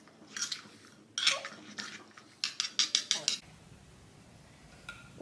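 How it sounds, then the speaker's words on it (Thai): Cutlery and dishes clatter close by as food is scooped onto a plate, a series of sharp clinks and scrapes in irregular bursts that grow quicker, then give way to near quiet with one last faint clink. "เดี๋ยวเอามาตักใส่จานเลย"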